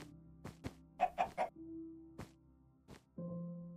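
Minecraft chicken clucking in the video game: a quick run of three short clucks amid sparse blocky thumps and clicks, with a low steady hum underneath.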